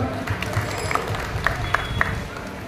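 Audience clapping at a Durga Puja inauguration in Kolkata: a dense, steady patter of many hands over a low crowd murmur, with a few sharper individual claps standing out, moderately close and without clear speech.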